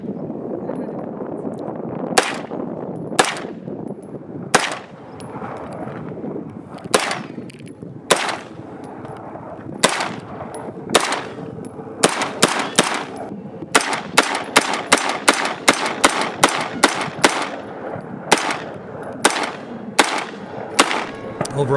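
Repeated gunfire from a Foxtrot Mike FMP-9 9mm firearm: sharp single shots and quick bursts, loud and close, spaced irregularly at first then coming faster, with outdoor range ambience between them.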